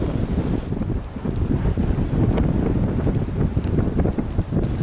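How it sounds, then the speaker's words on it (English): Strong gusting wind in a winter ice storm, over 40 mph, roars steadily and loudly across the microphone in a deer-hunting stand, with continuous buffeting and no talk. "the winds, they're gusting up over 40 miles an hour"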